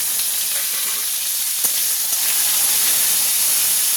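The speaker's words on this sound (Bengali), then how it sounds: "এবার আমি এতে আলুটা দিয়ে" Steady, loud sizzling of potatoes frying in hot oil with fried five-spice seeds, a continuous bright hiss with no voices.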